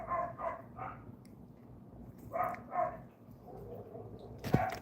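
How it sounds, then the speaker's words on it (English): A neighbor's dog barks from some distance, in short pairs and triplets of muffled barks separated by pauses, over a low background hum. "If someone doesn't choke that fucking neighbor's dog out one of these days, I'm going to."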